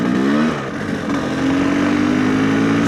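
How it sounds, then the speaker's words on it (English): A GPX TSE 300 motorcycle fitted with an aftermarket smart carburettor accelerates through the gears, a loud, close engine drone that dips briefly at a gear change and then climbs steadily again, with no voices. "Third, fourth gear, just pulls through, which is nice."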